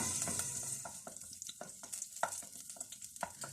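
Chopped garlic and ginger fry in hot oil for pasta, a steady close sizzle with crackling pops and occasional stirring scrapes throughout.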